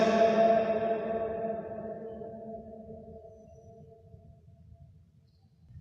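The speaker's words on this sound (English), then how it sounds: "That was a pretty good echo." A shout rings out inside a concrete artillery depot tunnel on Mount Davies, Hong Kong, then echoes and slowly decays over several seconds. The loud reverberant tail fades into a low background rumble.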